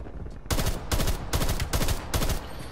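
Five quick bursts of AUG rifle gunfire in Call of Duty Black Ops Cold War, loud and close, evenly spaced about every half second with brief gaps between.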